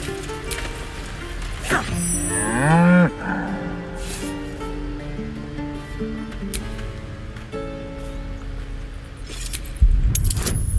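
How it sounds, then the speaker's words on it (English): An ox lows once in Baldur's Gate 3, a loud, drawn-out moo with a rising then falling pitch, set against a soft game ambience with a faint jingle and a thump near the end. "Moo!"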